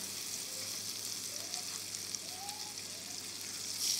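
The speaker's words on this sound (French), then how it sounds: "en faisant bien circuler le beurre, ce qui va détendre notre caramel" Butter melts into sugar caramel in a small pan, making a soft, even sizzle that stays quiet and steady throughout, with no voices.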